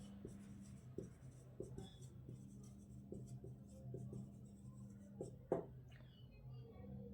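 Pen or chalk writing out a group theory proof in a lecture setting, a steady run of soft scratchy strokes and taps over a low constant room hum, with one sharper knock partway through.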